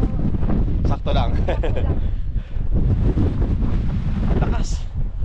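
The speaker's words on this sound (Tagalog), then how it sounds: "Lakas ang hangin." Strong gusting wind roars and buffets the microphone continuously on the cold summit of Mt. Timbak, with voices faintly mixed in.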